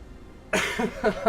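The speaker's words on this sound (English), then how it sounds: "Oh, and I coughed a little bit too." A single close, loud cough bursts out of silence, followed by a couple of shorter rasping coughs in quick succession.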